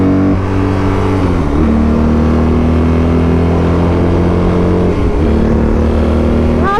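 A 2022 BMW R 18 Transcontinental motorcycle engine drones steadily at highway cruising, its harmonics rising and stepping through gear changes as it pulls along, loud and continuous with no talk.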